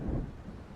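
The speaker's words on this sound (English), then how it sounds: "It seems there's a storm coming." Low, rolling thunder from an approaching storm in the video game Alan Wake, a brief rumble that swells early and then settles into a steady dull roar of wind and distant weather.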